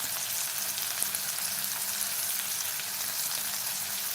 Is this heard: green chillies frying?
yes